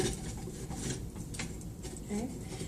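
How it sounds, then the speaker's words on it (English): Metal die plates slide into a clay extruder, making quiet scraping and rubbing with a few small clicks, close and soft against a faint background. "Then I'm going to slide in the die plates."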